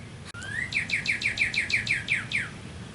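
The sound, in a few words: bird chirping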